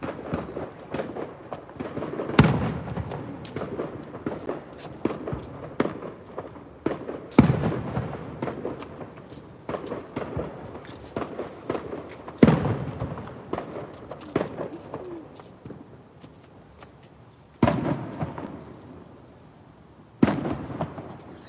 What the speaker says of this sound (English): for the 4th of July, I'll live my whole fireworks show, the one I do on my driveway. It's loud.